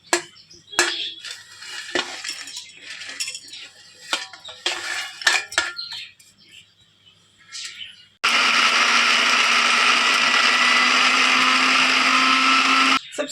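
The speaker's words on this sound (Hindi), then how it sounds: "आप सब इन चीज़ों को डालकर पीस लेंगे" A kitchen mixer grinder blends ingredients for poori sagu in one loud, continuous whirring burst lasting about five seconds, after earlier clinks and handling of the jar and lid.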